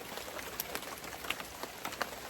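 Rain falls outdoors during a South Florida rifle-season hunt, a soft steady hiss with scattered drops ticking on nearby surfaces, faint and even throughout.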